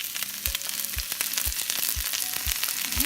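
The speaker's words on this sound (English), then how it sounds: "You can hear that sizzling." Brussels sprouts fry in coconut oil in a non-stick pan, a steady close sizzle and crackle with soft regular thuds of stirring or tossing, and no talking.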